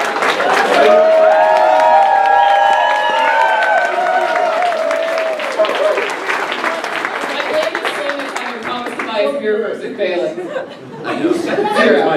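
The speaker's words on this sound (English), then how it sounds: "One more round of applause for our contestants." Audience at a live geek trivia game show at the SCALE 12x conference breaks into loud applause for the contestants, with cheers, whistles and laughter. The clapping thins into chatter and scattered claps near the end.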